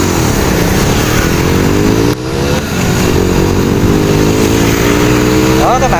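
Simson S51 motorcycle engine running while ridden in the rain with a passenger, a steady buzzing two-stroke drone with slight pitch shifts and a brief dip midway.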